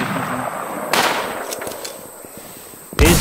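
Gunfire in The War Z PvP play on the Clearview map: a sharp loud shot near the start of the second second, a scatter of fainter cracks after it, and another loud close blast at the very end.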